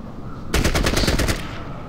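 Machine gun fire from the video game Fallout Tactics erupts as one loud, rapid burst of closely spaced shots lasting about a second, with no voice over it.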